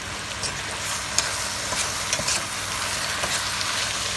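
Shallots fry in a hot pan for a soup, a steady sizzle broken by a few scraping clicks from stirring, close and with no talking.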